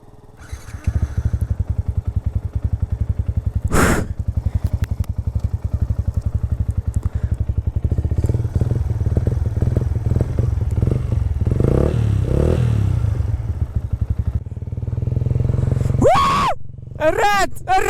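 A Yamaha YZF R125 motorcycle is ridden with a loud, close, continuous engine drone that rises and falls with throttle over wind rumble, ending in a brief high revving whine, with voices briefly heard.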